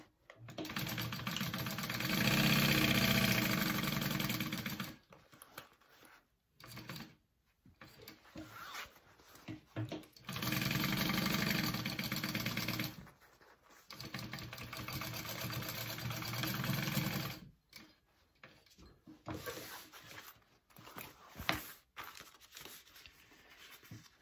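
A sewing machine stitches a pocket onto a crossbody bag in close, whirring runs of several seconds each. Short pauses and quiet handling noises fall between the runs.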